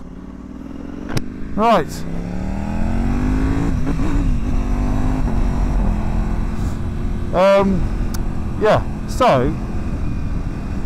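A 2025 Ducati Panigale V4S Tricolore is ridden with its engine close and loud, revving through several sharp upshifts and blips, while someone talks over it.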